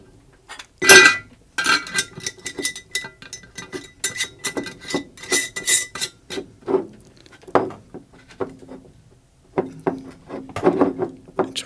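A lid set onto an empty glass jar during a humidity demonstration: a string of close clinks, taps and scrapes, in bursts with short pauses.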